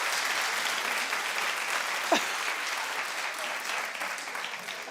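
Studio audience at a daytime talk show clapping steadily throughout, a dense even wash of applause with a brief whoop or cheer rising out of it midway.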